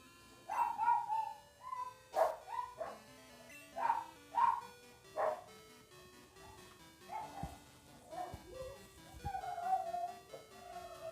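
Dogs at home bark in a series of sharp, loud yelps, a few spaced barks at first and then busier overlapping barking with whiny, whimpering tones later on.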